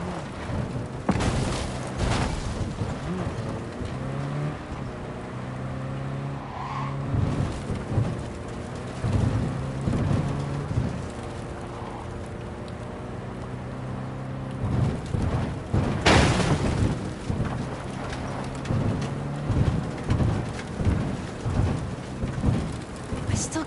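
A thunderstorm with heavy rain in Cyberpunk 2077, a steady loud downpour broken by several sharp thunder cracks and rumbles, one near the start and a strong burst past the middle.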